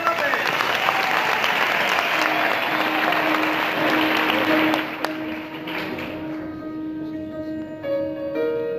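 Loud, steady applause from a radio studio audience for a singer in Vitoria-Gasteiz, dense clapping filling the room before easing and thinning out, with a sustained tone ringing underneath toward the end.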